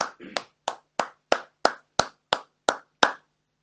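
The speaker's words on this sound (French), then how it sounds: "acclamons la parole du Seigneur qui va nous bénir aujourd'hui" Nine sharp claps in a steady, slow unison rhythm come from a church congregation applauding, close and distinct, with silence between each clap.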